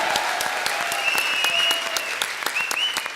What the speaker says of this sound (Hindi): अदनान सामी और भारती के लिए जोरदार तालियां।